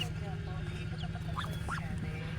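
A mother duck guarding her ducklings gives short, soft quacks and chirps over a steady low hum, with small peeping calls close by.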